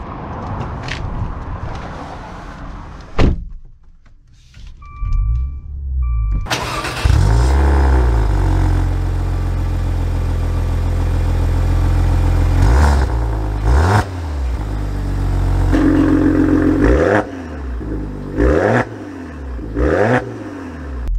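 A 2023 Maserati Levante Modena SUV starts up with a sharp crank and engine catch, then revs loudly and pulls away, its engine note rising and falling through several accelerations, close and prominent with no speech.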